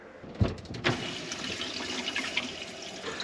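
Water rushing through a reverse osmosis filter system under test, a few sharp knocks and spurts at the start giving way to a continuous gurgling flow.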